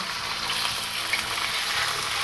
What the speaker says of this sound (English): Right now I'm just trying to put a sear on both sides.